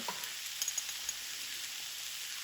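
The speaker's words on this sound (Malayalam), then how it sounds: "വീണ്ടും മൊരിഞ്ഞ് വരുമ്പോൾ അതിനകത്ത് കിടന്ന് മൊരിഞ്ഞോളൂ." Chicken thoran frying in a pan, a faint, steady sizzle throughout with a few soft stirring clicks and no talking.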